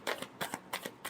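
Tarot cards being shuffled, four quick papery riffling bursts in an even rhythm, close and fairly quiet, with no talking.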